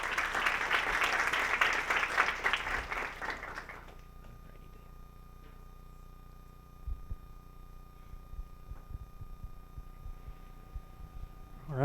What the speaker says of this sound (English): Let's give one more round of applause for Dr.